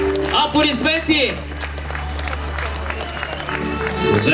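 Applause from an event audience as Robert Pires and Fabio Capello bring in the original UEFA Champions League trophy in Sofia, a steady wash of clapping under a loud announcer's voice and music.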